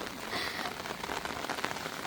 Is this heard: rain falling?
yes